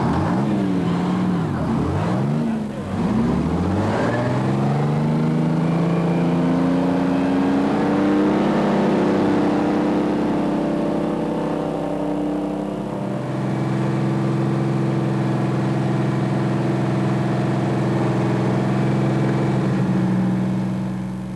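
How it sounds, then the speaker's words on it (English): A Field Marshall tractor engine cranks with rising and falling whine, then settles into a steady loud running drone, with one engine starting first and then turning over the second. "it starts one engine up first, and that engine then starts the second engine up."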